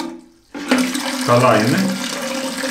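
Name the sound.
water refilling toilet cistern after float valve adjustment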